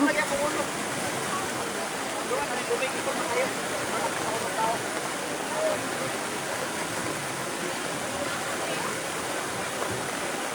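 Flood water rushes in a loud, continuous broadband roar that stays steady throughout, with voices faintly audible under it.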